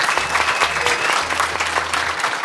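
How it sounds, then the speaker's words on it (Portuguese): A hall audience at a university careers event claps warmly in a dense, even burst of applause, with a low hum running underneath. "eu queria que vocês dessem um aplauso muito caloroso"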